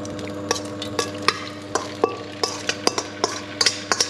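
Prawns frying in hot oil in a pan for a restaurant-style prawn curry, stirred with a spatula: a steady sizzle runs throughout, broken by regular sharp scraping clicks of the utensil against the pan, close and fairly loud, with no talking.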